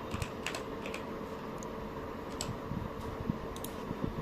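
Soft, close keyboard typing, quick light key clicks in a steady patter over faint room noise, with no voices.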